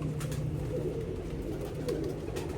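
A pigeon, one of a keeper's show birds, coos in repeated low rounded calls, fairly close, over a steady noisy background with no talking.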